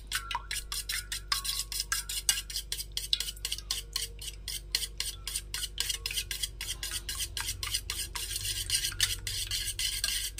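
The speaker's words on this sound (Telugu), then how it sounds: "ఇలా 2 ఎగ్స్ బౌల్లో తీసుకొని విస్కర్ తీసుకొని చక్కగా ఇవి" A whisk beats two eggs in a bowl, giving a fast, steady run of close, light clinking strokes against the bowl for about ten seconds under a constant low hum.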